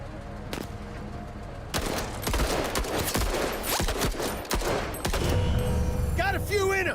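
Gunfire from the tactical combat game MENACE, with dense overlapping volleys and bursts of rapid shots, loud and continuous, plus occasional sharper blasts and a rising whine near the end.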